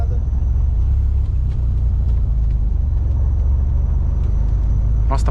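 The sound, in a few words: Dodge Viper engine idling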